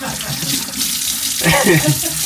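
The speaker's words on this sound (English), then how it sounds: "Can you hear it bubbling out the side of the boat?" Water gushing and bubbling steadily, with a gurgling burst partway through, loud and close.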